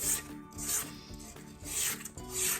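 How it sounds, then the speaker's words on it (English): A spatula scrapes creamed butter and sugar from the sides of a mixing bowl, several rhythmic rubbing strokes close by with no voices. "you want to make sure you scrape down the bowl"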